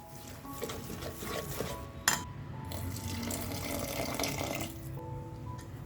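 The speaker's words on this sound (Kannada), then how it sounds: "ನಾವು ಇದಕ್ಕೆ ಇನ್ನೂ ಸ್ವಲ್ಪ ನೀರನ್ನು ಹಾಕೋಬೇಕು" Water is poured from a tap or vessel into semolina idli batter in a kitchen, a steady soft trickle and splash with a brief clink of a pot or dish partway through, fairly close and without talk.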